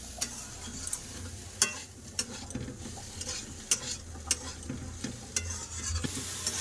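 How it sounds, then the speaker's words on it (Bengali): Spice masala with chili and turmeric powder sautéing in a pan: a spatula scrapes and taps irregularly against a low, steady sizzle, close and fairly quiet, with no talking. "মশলা খুব ভালো করে কষে নিয়েছি কষা হয়ে গেছে"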